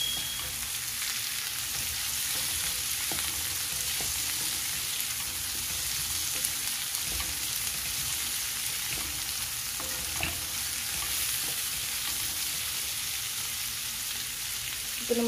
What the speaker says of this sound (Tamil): நல்லா வதக்கிடுங்க கலர் சேஞ்ச் ஆகணும் அந்த அளவுக்கு வதக்கிடுங்க